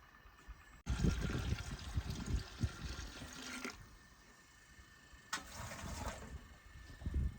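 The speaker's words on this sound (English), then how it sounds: "I'm going to put in the water required" Water pours into an All-American pressure canner in two separate bursts of splashing and filling, each stopping abruptly, with quieter pauses between.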